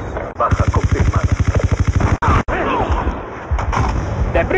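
Rapid automatic gunfire from a first-person shooter video game, a loud sustained burst of evenly spaced shots followed by a couple of sharp single blasts, amid game noise and brief voices.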